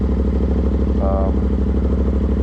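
A 2023 Yamaha MT-07 motorcycle engine idles while warming up, a steady low throbbing pulse held at an even level close by, with a brief faint higher tone partway through.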